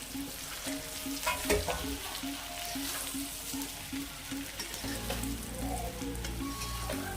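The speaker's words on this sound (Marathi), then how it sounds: "हे असं पूर्ण टाकायचं आणि हलवून घ्यायचं आहे आपल्याला." Masvadi pieces being turned in a pan of spiced gravy, a steady sizzle with repeated soft scraping strokes of a spoon, close and alone with no talking.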